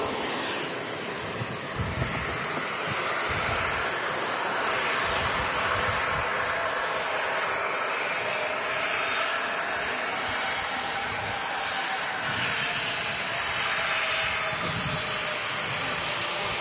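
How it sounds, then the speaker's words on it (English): A Ryanair airliner arriving from Copenhagen at Manchester Airport makes a steady, broad jet roar that holds at a moderate distance throughout, mixed with wind noise on the microphone. "Ryanair in from Copenhagen."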